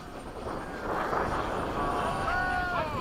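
An FMS 70mm F/A-18 RC jet makes a low pass over a runway, its engine a rushing roar with a rising and bending high whine as it sweeps close by, heard from outdoors at moderate loudness.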